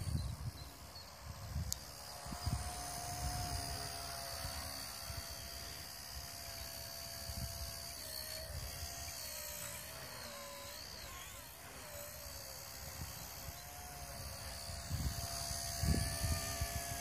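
A Blade Nano S2 micro RC helicopter flies nearby, a thin buzzing rotor whine that rises and falls in pitch as it maneuvers, fairly faint against low rumbling bumps.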